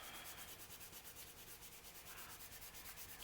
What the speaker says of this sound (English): so I just want to rub it down until it gets good and stuck that over that crochet trim